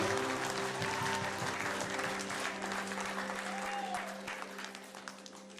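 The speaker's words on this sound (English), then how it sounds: "Give the Lord a clap offering" A youth assembly congregation at a Tongan Assembly of God gathering gives a clap offering, a broad sustained burst of crowd applause with a faint steady tone beneath, thinning slightly toward the end.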